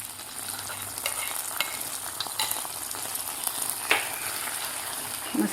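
Ghee-fried dry fruits being stirred into a pot of wheat kheer, with soft scraping and a steady faint background hiss, a few spoon knocks near the end, no talking.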